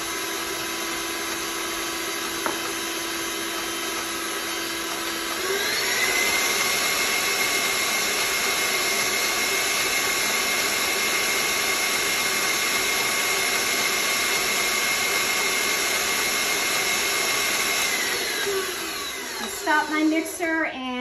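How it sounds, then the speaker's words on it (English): An electric stand mixer beats cake batter for buttery mini cakes, a steady loud whir that rises in pitch partway through and runs nearly twenty seconds before winding down with a few clatters at the end. "Stop my mixer"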